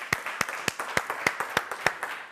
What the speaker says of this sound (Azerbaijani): Əli doktor bir ürəkdən alqışlayın.